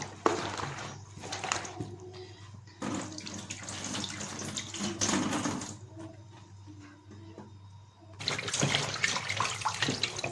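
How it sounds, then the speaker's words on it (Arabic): Catfish being rinsed with corn flour under running kitchen tap water, the stream splashing in several bursts with brief pauses between, close and moderately loud. "كده هغسلها بدقيق الذره في الميه"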